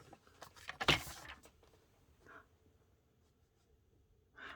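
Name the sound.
paper cutter trimming card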